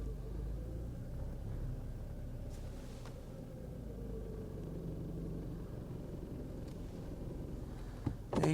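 A SEAT car's engine idles with a low, steady rumble as the car reverses, close and continuous, with a brief louder knock near the end.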